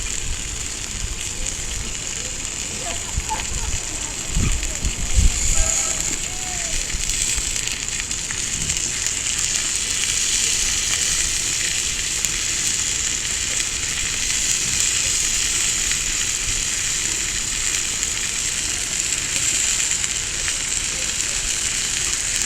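Steak and fried cabbage with onion and jalapeno sizzle steadily in a cast iron pan over low heat, a constant close crackling hiss that holds for the whole stretch, with a few knocks and clatters early on.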